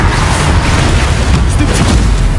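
Confringo explosive spell cast in Hogwarts Legacy, a dense, loud, continuous rumbling blast that fills the whole moment without a pause.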